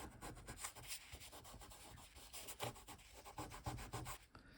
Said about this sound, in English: But here I will just burnish it down.